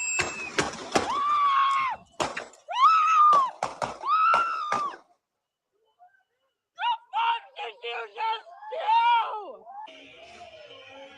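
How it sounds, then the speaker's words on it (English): A person screams loudly in several sharp bursts within chaotic played-back footage of a scuffle with federal officers, with shouting voices overlapping, then a brief silence before more yelling and talk. "you hear somebody screaming"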